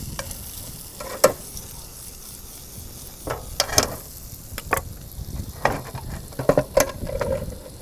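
Kale, onions and bacon frying in a pan outdoors in a garden, with a steady sizzle under repeated scraping and clacking stirring strokes, close and fairly loud.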